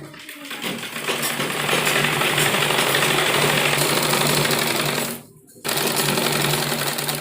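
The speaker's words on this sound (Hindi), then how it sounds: "और अब हम एक दबी हुई सिलाई बेल्ट के ऊपर लगाएंगे" A sewing machine runs steadily while stitching along the waistband of a churidar pajama, a close, continuous mechanical whir that breaks off briefly before resuming.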